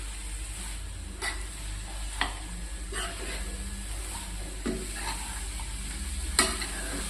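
Cabbage palya stirred and fried in a pan over a medium gas flame, a low steady sizzle broken by several scraping stir strokes at irregular intervals, close by with no talk.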